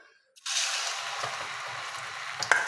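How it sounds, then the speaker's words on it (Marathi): Food dropped into hot oil in a pan to fry starts a sudden, close sizzle after a brief quiet moment, then holds as a steady hiss with a small clatter near the end. "बघा, आता आपण या तेलामध्ये टाकून घेऊया."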